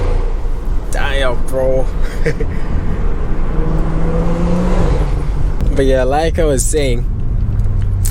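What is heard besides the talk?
BMW F30 car accelerating hard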